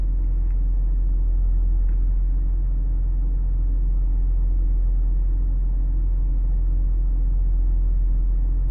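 A car engine idles with a steady, loud low rumble that holds evenly throughout, with no talking over it.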